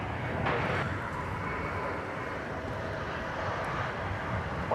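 A British Airways Airbus A380 airliner passes at Dallas Fort Worth airport, a steady broad engine roar held at moderate distance throughout, no voices over it.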